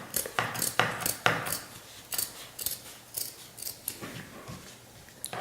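Scissors snip repeatedly at close range while cutting triangle shapes for a snowman wreath, making quiet, irregular crisp clicks and slicing strokes with short pauses between cuts.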